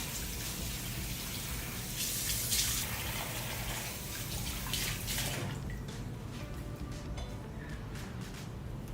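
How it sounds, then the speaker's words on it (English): Water from a sink tap splashes as cleanser is rinsed off a face. The rushing and splashing is strongest early on and softens to gentler trickling in the last few seconds. "I just like to rinse it off."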